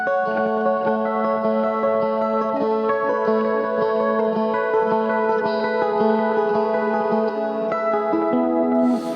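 Electric guitar picked very lightly through a reverb pedal, layered sustained notes blending into a continuous shimmering wash that stays steady and fairly loud throughout.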